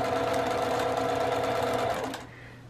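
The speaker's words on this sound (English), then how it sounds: "I'm going to be sewing what was the sort of the vertical seam to the center, and then the center seam out" A sewing machine runs steadily, stitching a seam on a One Block Wonder quilt block with a close, even whirring hum, then slows and stops near the end.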